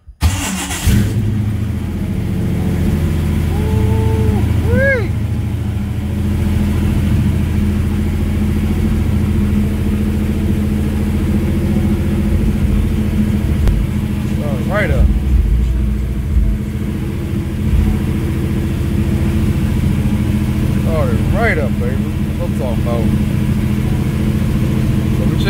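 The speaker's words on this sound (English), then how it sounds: "I'm trying to get the air fuel ratio right while it's idling." A motorcycle engine runs after carburetor work with the jets changed from 68s to 66s, a steady low idle rumble with a few short throttle blips throughout.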